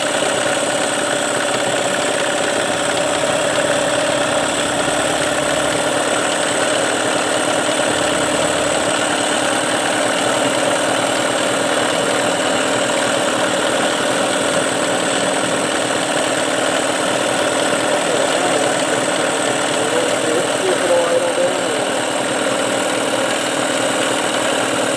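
A Mercury 9.9H outboard motor on a Tracker boat idles after a no-start problem, running loud and steady with a rough, vibrating drone that holds nearly unchanged throughout.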